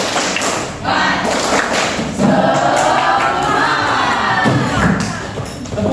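A classroom group bursts into a loud, dense rhythmic clapping chant, many hands striking together with excited shouting voices, continuous and close for several seconds.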